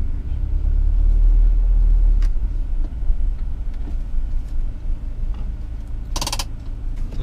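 A car drives away from a border crossing service area between Estonia and Russia, heard from inside as a steady low road and engine rumble, with a brief sharp click near the end.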